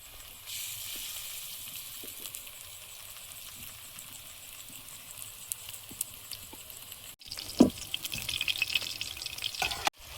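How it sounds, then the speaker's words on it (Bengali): Fish frying slowly in a little oil makes a low, soft sizzle that carries on throughout, with scattered faint clinks and a brief sharper knock near the end. "কম তেলে ভাজছি তো, একটু সময় নিয়ে নিয়ে ভাজছি"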